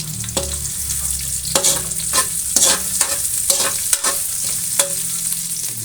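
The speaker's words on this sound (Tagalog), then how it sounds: "Igisa ko muna yung sibuyas at saka baboy." Onions and pork sautéing in a pan for Bicol Express, with steady sizzling broken by repeated scraping stir strokes of a utensil against the pan, close and fairly loud, no talking.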